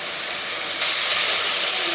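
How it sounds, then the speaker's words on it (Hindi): A potato and carrot curry with green chillies sizzles loudly as it fries in a pan. The steady hiss swells and brightens just before the halfway point, and no one speaks. "अब हम इसे भून लेंगे।"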